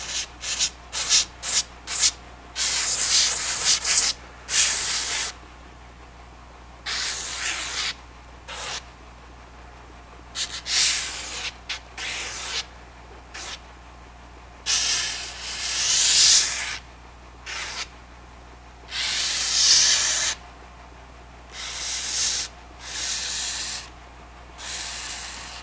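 Belt sander grinding knife handle scales on a blade protected with tape, loud rasping bursts that start and stop repeatedly, short quick passes at first, then longer sustained runs, with no talking.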